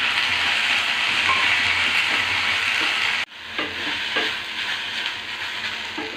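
Mint leaves and fried onions sauté in a pan while making mint chutney, a loud, steady sizzle with stirring scrapes that briefly cuts out and then resumes slightly quieter with occasional clinks.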